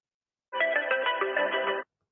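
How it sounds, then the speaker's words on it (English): An electronic phone ringtone sounds from a handset taking several incoming calls at once, a steady warbling ring that plays alone for just over a second, then stops cleanly. "there are like several calls coming in at the same time"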